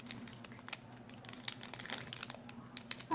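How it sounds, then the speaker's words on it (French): A small plastic sachet is cut open, making faint, close crinkling and snipping sounds in short irregular bursts against a quiet indoor background. "Je vais déjà découper mon petit sachet."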